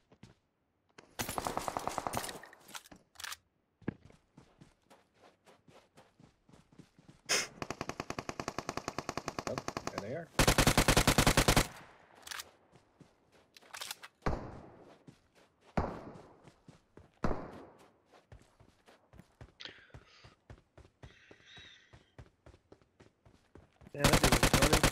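Bursts of automatic and single-shot gunfire in a battle royale video game, loud volleys separated by quieter footsteps and movement, with a few heavy sustained bursts and sharp shots throughout.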